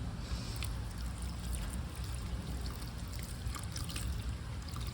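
Water trickling as potted seedlings are watered, a soft, steady splashing and dribbling that stays even throughout at low volume, with no speech.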